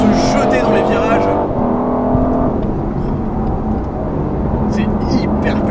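An Aston Martin Vantage F1 Edition drives hard through corners on a road test, its engine a loud, sustained roar with shifting pitch as it powers along, and someone talking over the noise.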